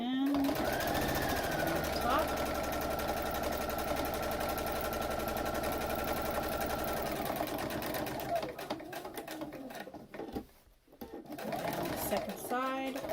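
Sewing machine stitching the sides of a fabric mask, a steady rapid mechanical whir running close and loud, then slowing and stopping briefly before restarting, with a voice speaking over it.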